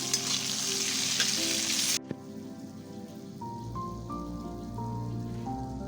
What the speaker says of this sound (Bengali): মশলাগুলো অল্প ভেজে নেব।